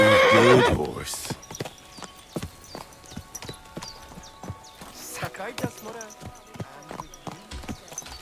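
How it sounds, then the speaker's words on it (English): A horse whinnies loudly at the start, then hooves clip-clop in a quick, uneven rhythm, with scattered shouting and movement sounds, in the video game Kingdom Come: Deliverance II. "Easy, good horse."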